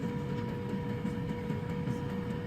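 A Schafer FitFry Smart air fryer set to 180 degrees runs with a steady, quiet fan whir and a faint continuous hum throughout.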